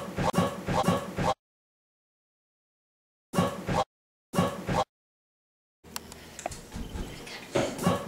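Dog barks and yips come in short bursts separated by silent gaps, close and fairly loud, ending with a longer stretch of excited yapping and whimpering.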